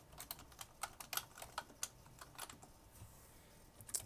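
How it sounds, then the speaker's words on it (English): Quick, light keystrokes on a computer keyboard while an address is entered, an irregular run of close, soft clicks over about four seconds with no talking. "then we're going to type in an address"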